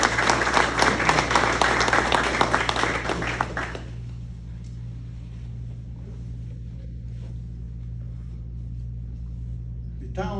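Audience applause at a retirement ceremony, dense clapping filling the room for a few seconds before fading into quieter ambience with a steady low hum.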